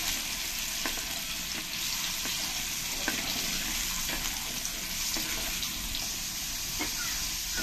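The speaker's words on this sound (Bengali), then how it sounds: "দিয়ে ভালো করে আমি আলুগুলোকে এরকম করে ভেজে নেব" Potatoes with turmeric fry in a pan with a steady, close sizzle, with occasional sharp crackles and stirring clicks through the whole stretch.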